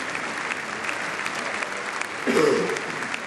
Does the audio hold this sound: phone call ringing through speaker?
no